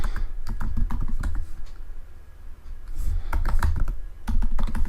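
Someone types a username on a computer keyboard while setting up a Jenkins user account. The keys give a steady run of close, crisp clicks in uneven bursts, with no voice over them.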